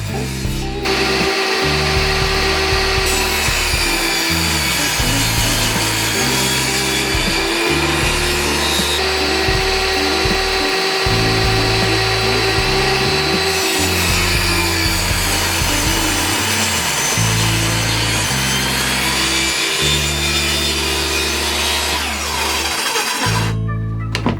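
A table saw whines steadily as it cuts through plywood, loud and continuous, with the blade's pitch shifting as it bites into the material.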